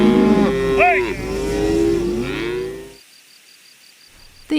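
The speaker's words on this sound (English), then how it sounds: "It is a cattle drive." Cattle on a road moo loudly and close during a cattle drive, with several overlapping long, drawn-out calls. The calls then drop away to quiet, with faint high chirping insects in the background.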